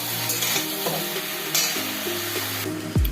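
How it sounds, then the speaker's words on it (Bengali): Eggplant pieces stirred and frying in a pan for a fish-and-eggplant curry, giving a steady close sizzle with scraping stir clatters and a sharper clank near the end, no voices. "এবার বেগুনগুলো দিয়ে দেব, দিয়ে একটু নাড়াচাড়া করে ঢাকা দিয়ে দেব।"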